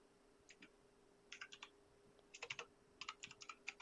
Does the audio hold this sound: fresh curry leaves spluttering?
no